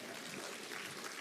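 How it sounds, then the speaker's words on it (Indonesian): Audience applause at an Atomy business seminar, a steady wash of clapping filling the short stretch at moderate, somewhat distant level with no break. "Tepuk tangan lagi Bapak dan Ibu."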